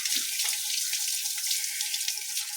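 Tap water running steadily while a dog is bathed, a close, continuous splashing gush with faint drips and small thumps underneath.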